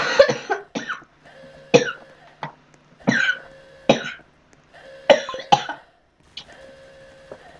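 Repeated harsh coughing fits in the game Roblox, several bursts in quick clusters, close and loud against a quiet steady hum.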